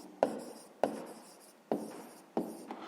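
Pen strokes on paper as a maths answer is written out, four short scratchy bursts at roughly even intervals, close and fairly quiet with no talking.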